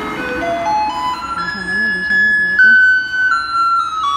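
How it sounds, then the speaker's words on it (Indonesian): A garbage truck arrives playing its electronic jingle, a melody of bright sustained tones stepping up and down, fairly loud and near on a street, with a brief murmur of voices in the background. "Itu mobil sampah datang."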